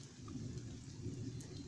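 A village thunderstorm brings steady rain with a low rolling rumble of thunder underneath, a continuous moderate hiss without any voices.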